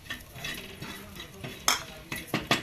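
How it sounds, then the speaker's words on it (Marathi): Grated coconut roasting in oil in a pan while being stirred, with scraping and clinking of a utensil against the metal, soft sizzle underneath and a few sharper knocks near the end. "खोबरं किस पण भाजून घेणार आहे तेलामध्येच"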